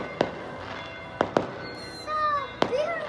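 Lunar New Year fireworks bursting outdoors: a few sharp, loud explosive cracks spaced irregularly, with whistling, sizzling trails rising between them.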